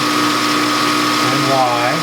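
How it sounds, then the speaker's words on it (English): A center drill turns in a machine tool while machining a carburetor main body, a steady whirring hum with a faint rising tone near the end. "Basically just picking up the center again with that center drill."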